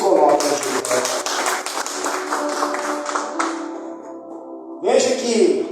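Church congregation clapping together in a dense, rhythmic burst that goes on for several seconds, then thins out. A voice carries over the claps and returns loudly near the end.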